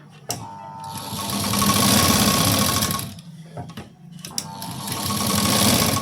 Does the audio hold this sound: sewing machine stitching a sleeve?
yes